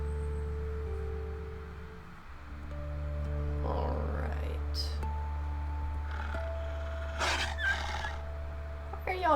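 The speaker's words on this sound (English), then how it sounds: "Y'all growling. Be nice." Wolves growl in the video game WolfQuest over a steady droning game soundscape, with several short rough growling bursts in the second half, moderately loud and with no talk over them.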